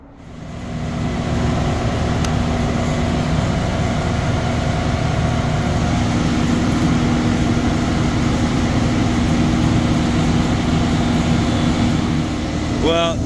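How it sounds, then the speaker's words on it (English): A failing motor and gearbox drone loudly and steadily with a constant whining hum, ending in a few brief squealing chirps. "this motor just took an absolute shit"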